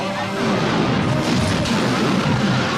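Loud, dense rumbling blasts and booms from explosions in the 1983 film Superman III, continuous and heavy for a few seconds.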